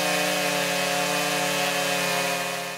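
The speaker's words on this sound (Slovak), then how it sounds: "je dostatočne náročná, keďže sa to robí s motorovou pílou" A chainsaw carving hard oak wood into a portrait sculpture, its engine running as a steady, loud, buzzing drone throughout, close by with no pauses.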